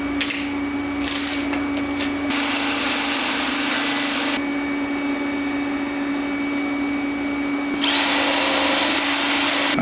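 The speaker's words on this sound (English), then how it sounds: "we got her tacked up" A welder tacking a part on an LS-swapped Mazda Miata, several short buzzing bursts of arc with a steady electrical hum in between, close and fairly loud.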